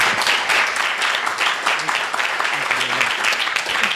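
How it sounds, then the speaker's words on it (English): A room full of people applauds steadily, a dense patter of clapping that holds at an even level throughout. "Let's give a warm round of applause to Brett Martin."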